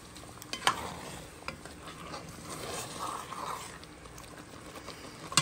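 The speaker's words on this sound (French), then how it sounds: "Je dois un peu mélanger un peu parce que dessous," Chicken being stirred in a pot for poulet Dakatine, a spoon scraping and clattering in intermittent strokes over a soft continuous sizzle, close and moderately quiet, with no talking.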